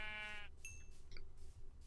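A sheep gives a single faint, wavering bleat in the video game Rush to the Beacon, then short electronic game tones follow over a low rumbling background.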